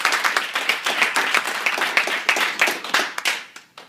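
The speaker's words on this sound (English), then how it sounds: "Let's all give them a round of applause." A Toastmasters audience claps for its committee at an inaugural meeting: distinct, fairly sparse hand claps in a quick irregular patter that thins and fades toward the end.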